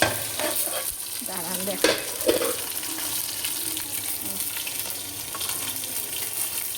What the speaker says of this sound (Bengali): অল্প তেল দিয়ে আলাদাভাবে মাছটা করে দিচ্ছি